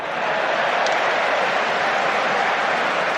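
Football stadium crowd at an Arsenal testimonial match against Ajax, a dense, steady wash of cheering and applause filling the whole stretch evenly and loudly, with no voice standing out above it.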